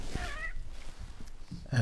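A domestic cat gives a short meow near the start, followed by faint room noise and a thump at the end, with no talk over it.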